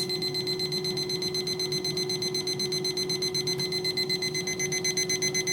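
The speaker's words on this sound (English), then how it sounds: "Let me set the timer for 4 minutes." Clip-on kitchen timer with a magnet, set for four minutes while cooking lentils in an Instant Pot, beeping in a steady rapid repeating pattern, close and fairly loud, with no talk.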